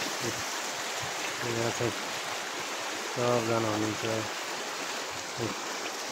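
Steady rushing of water flowing through a village irrigation channel in Nepal runs throughout, with someone talking over it.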